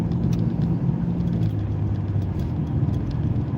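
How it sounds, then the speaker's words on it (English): A Corvette sports car pulls away on a busy road, its engine giving a continuous low rumbling drone over steady traffic noise, with no talking. "We're gonna hear this Corvette."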